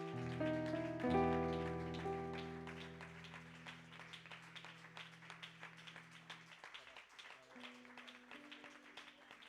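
Applause from a church congregation at a Spanish-language Sunday morning service: scattered, fairly faint clapping that patters on like rain, after sustained keyboard or organ chords that ring out at the start.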